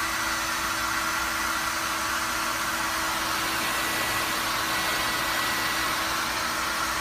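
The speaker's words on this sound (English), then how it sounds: "And if you've got a hair dryer," A hair dryer runs on its single high-temperature setting to dry glue on EVA foam, giving a loud, steady, close whoosh of blowing air with a faint motor hum that never stops.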